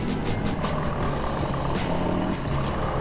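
Jeep and Honda Pilot SUVs pass close by on a winding mountain road, a dense, steady roar of engines and tires; no talking.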